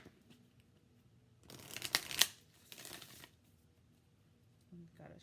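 A deck of Work Your Light oracle cards is shuffled in one quick burst of riffling and crinkling in a quiet room, with a brief faint murmur near the end.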